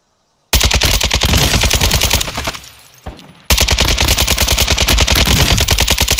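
Video game gunfire rattles in rapid machine-gun bursts, loud and close, with a brief drop to a quieter stretch midway before the full automatic fire resumes.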